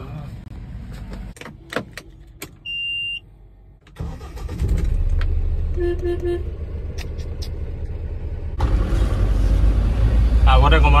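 Keys jangle and a short electronic beep sounds before a new pickup's engine cranks, catches and settles into a steady running rumble that grows louder as it pulls away; people speak nearby.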